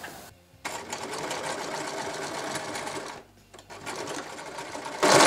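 Sewing machine stitching two garment edges together while taking in the sides of a sleeveless piece, a steady continuous whir with a brief pause partway and a louder burst at the end, no talk.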